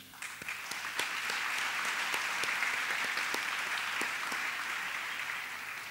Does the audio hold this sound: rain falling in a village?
no